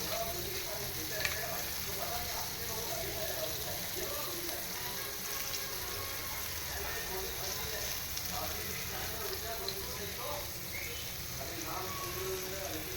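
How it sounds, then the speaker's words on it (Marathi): Mandeli fish (Bombay duck) frying in a pan, a steady close sizzle and crackle of hot oil that runs unbroken throughout with no talk over it. "मी एवढीच मांदेली फ्राय करणार आहे."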